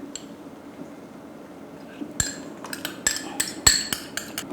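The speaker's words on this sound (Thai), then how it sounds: "คนให้น้ำพริกเผาพอละลายค่ะ" A utensil stirring roasted chili paste into a pot of tom yum seafood noodle soup gives a run of light, close metallic clinks and taps against the pot, fairly quiet and with no talking.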